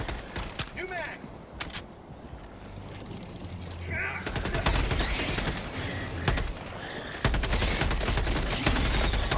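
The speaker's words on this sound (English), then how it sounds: "Open fire! Mag's empty! New mag!" Helldivers 2 gunfire: dense rapid bursts and sustained automatic shooting, loud and close, swelling toward the end amid battle noise, with voices shouting over the shots.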